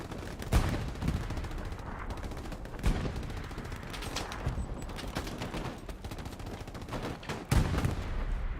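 Rifle and automatic gunfire from the World War II shooter game Hell Let Loose, a steady stream of sharp cracks and bursts with several louder near shots standing out over continuous distant battle noise.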